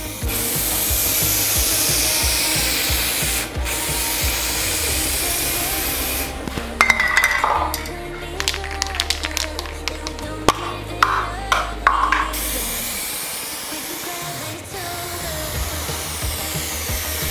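Aerosol rattle cans spraying paint onto a Ford Sierra Sapphire RS Cosworth during an amateur respray, steady close hissing bursts broken by a quieter stretch of rattling and handling noises before the spray resumes.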